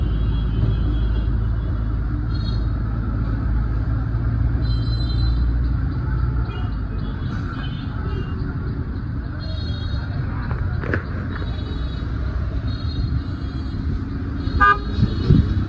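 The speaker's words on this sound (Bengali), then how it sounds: "আমাদের এখানে মোটামুটি একটা ভালো জ্যাম লাগছে।" Car horns toot repeatedly in a traffic jam, standing out above a constant rumble of engines and road noise, with a few voices faintly mixed in.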